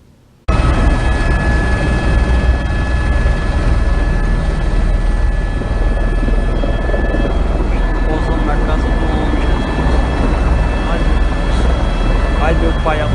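An aircraft coming in to land, playing back from a video: a loud, steady roar of engine and rushing air that holds continuously for the whole stretch, with no voices over it.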